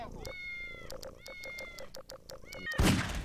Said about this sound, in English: Meowing at you to go!